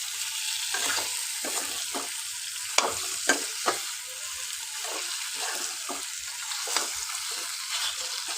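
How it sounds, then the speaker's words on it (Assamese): Boiled elephant foot yam frying in hot oil in a pan, a steady close sizzle broken by repeated stirring scrapes and a few sharp pops, with no talking. "সিজাই লোৱা কচুখিনি তেলতে বহাই দিলোঁ।"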